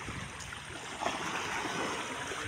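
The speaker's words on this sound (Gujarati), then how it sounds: "મિત્રો પાણી ક્યાંય પહોંચી આવ્યું, કેવી લહેર મારે પાણી" Floodwater from a full dam surges past in waves, a steady, dense rushing roar that holds without break and drowns out other sounds.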